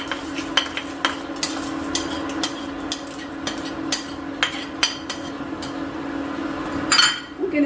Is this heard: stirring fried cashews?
yes